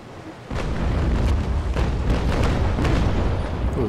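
Ship cannons in the age-of-sail naval combat game Naval Action fire in a dense, rumbling barrage of repeated booms over a heavy continuous roar, loud and sustained throughout.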